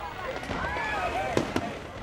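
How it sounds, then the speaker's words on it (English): Fireworks display over the harbour side at a food festival in Whitehaven on the Cumbrian coast: whistling rockets climb in pitch under a steady outdoor crowd rumble, then two sharp crackling bursts land close together. "Once the fireworks display's finished, you'll probably find there'll be a mass exodus off the harbour side"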